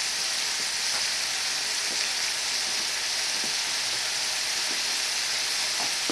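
Bombay potatoes sizzle and fry in a pan with fresh coriander, a loud, steady crackling hiss that runs unbroken from start to finish, with faint scrapes now and then.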